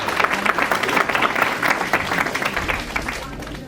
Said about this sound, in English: these students truly deserve a clap for